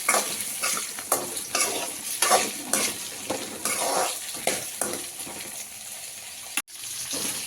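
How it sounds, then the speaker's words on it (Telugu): Chopped onions and green chillies fry in about a tablespoon of oil for capsicum masala curry, a loud, close sizzle broken by repeated scraping stir strokes and a pan knock near the end. "ఇప్పుడు దీంట్లో ఉల్లిపాయ, పచ్చిమిర్చి, కొంచెం ఆయిల్ పోసుకొని ఒక 1 టేబుల్ స్పూన్ అంత ఆయిల్ వేసుకొని ఉల్లిపాయ, పచ్చిమిర్చి ఫ్రై చేసుకోవాలండి."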